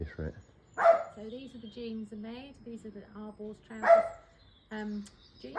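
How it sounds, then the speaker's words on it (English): A dog barks a few sharp times in the background of a room while someone speaks continuously over it about a pair of sewn jeans. "Sorry about the dog in the background."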